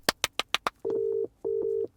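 A UK telephone ringtone: a few quick dialling clicks, then two clear double-burst rings, each a steady buzzing tone heard alone in a quiet room.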